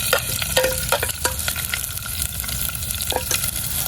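Onions fry in a hot pan, sizzling steadily with sharp pops and crackles scattered over the hiss, heard close with no voices.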